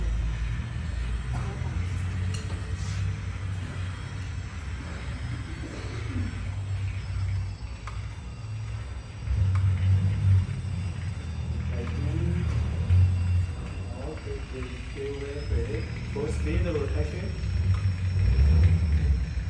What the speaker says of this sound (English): So now it's not lifting by hydraulic, it's lifting by the winch.